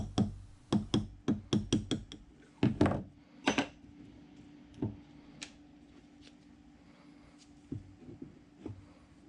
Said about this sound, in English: it's taking quite a bit of effort to knock it through